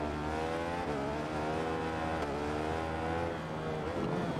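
Steady, close engine whine of a stock 1000 superbike in the racing game Ride 4, held at high revs with shifting pitch as it accelerates, continuous and fairly quiet.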